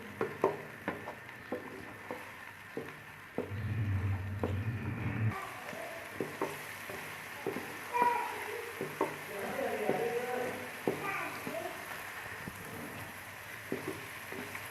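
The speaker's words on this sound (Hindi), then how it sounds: "ये चना की बुनाई अभी तक हो रही है।" Green chickpeas roast in a pan with a soft sizzle and frequent scraping stirs, quiet and close, with a brief louder hiss partway through.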